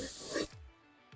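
An aerosol can sprays paint onto an RC car body in a short, close hiss of about half a second, followed by quiet and the start of another brief burst.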